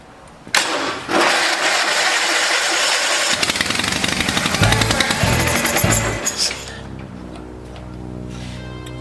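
Onan engine on a vintage Case tractor cranking and catching after sitting unused, a loud rough mechanical roar that runs for several seconds, then sputters and winds down into a slowing rattle.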